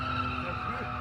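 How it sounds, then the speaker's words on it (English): A 1976 Holden Gemini with a six-cylinder engine skids through quick figure eights at a racing circuit, with continuous loud tire scrubbing and engine drone under a commentator's voice. "Neil Law really throwing that Gemini around as he does a couple of quick figure 8s there"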